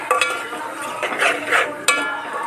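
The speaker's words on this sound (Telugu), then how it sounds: "ఇదైతే బాగా కలబెట్టుకోవాలి ఫ్రెండ్స్" Onion, tomato and ginger-garlic paste are stirred in a pan for a Telangana-style amaranth leaf curry, giving close scraping and swishing with a faint sizzle and a few sharp utensil knocks.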